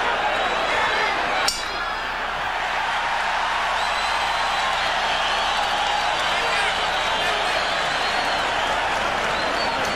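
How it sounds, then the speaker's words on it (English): A boxing arena crowd roars during the Julio César Chávez vs Meldrick Taylor fight. The cheering is a loud, constant, distant wash of noise with a sharp metallic ping early on, and commentary runs over it. "the crowd begins to heat up as Julio Cesar Chavez turns up the pressure."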